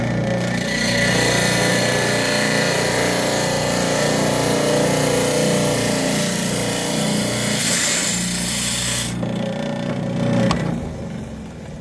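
A power tool saw grinds steadily through a fractured fluorite crystal with a botryoidal side, a loud continuous whine that shifts in pitch near the end and drops away in the final seconds.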